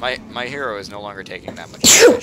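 One sharp sneeze bursts out near the end, right after a person's speech during a Warcraft III Hero Siege game session.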